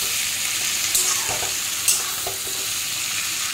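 Fish bones fry in a pan with chilli powder, sizzling and crackling steadily while a spoon stirs and scrapes through them in a few distinct strokes.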